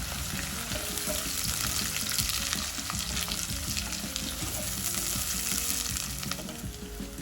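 Small onions, about 100 grams, sauté in oil with curry leaves and around ten garlic cloves, giving a dense, steady sizzle with scraping stirs throughout and no talking.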